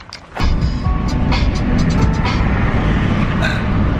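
A car cruising along the road in a steady, loud interior rumble of engine and tire noise that starts abruptly and holds even, with light clicks and rattles over it.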